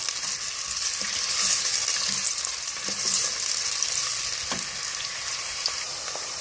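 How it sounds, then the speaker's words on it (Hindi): Onions for mutton curry sauté in a pan with a steady hissing sizzle and occasional soft stirring clicks, close up and continuous, with no voices. "ये हमारा जो है ऑनियन ये सौते हो चुका है"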